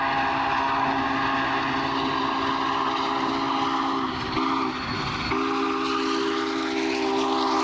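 Union Pacific 844, a 52-year-old steam locomotive, runs west toward Cheyenne, its chime whistle sounding a loud sustained blast over the heavy rolling rumble of the train, with a brief break midway.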